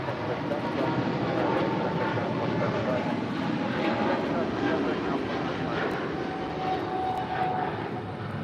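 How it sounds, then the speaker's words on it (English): Philippine Airlines Boeing 777-300ER departing for Manila from LAX, a steady, continuous jet engine roar at a distance with a voice talking over it. "That is Philippine Airlines Flight 113 departing to Manila on a 777-300 ER."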